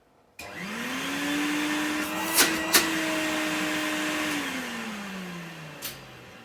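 A 1988 Numatic James JVR225 vacuum cleaner switches on with a sudden start and settles into a steady, loud, whining motor drone. A couple of sharp clicks sound partway through, and the motor's pitch then sags as it begins winding down.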